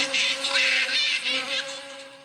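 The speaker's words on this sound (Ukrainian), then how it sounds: "Ух, не впіймали. Чуєте, полетіла." Housefly buzzing as it flies away, a close, steady high-pitched whine that wavers in loudness and fades toward the end, with no talk.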